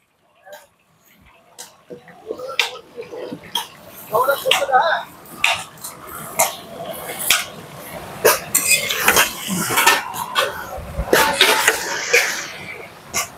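Cabbage is tipped into a pan of fried potatoes, followed by irregular metallic clanks and scraping of a utensil against the pan, growing busier midway, with talking and a cough or two over the clatter.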